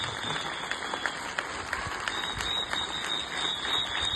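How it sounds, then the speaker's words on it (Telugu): Children at a school assembly applauding loudly for their parents, dense continuous clapping from a crowd, steady throughout with no talk. "అంతకన్నా ఎక్కువ మీ అమ్మ నాన్నకి గట్టిగా చప్పట్లు కొట్టాలి"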